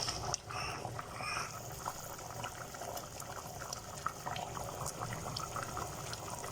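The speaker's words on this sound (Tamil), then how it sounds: "குழம்பு நல்லா கொதிக்குது, ஒரு சூப்பரான மணம் வருது." Fresh crab curry simmering in a pot, a faint, steady bubbling and gurgling of liquid at low level with no talking.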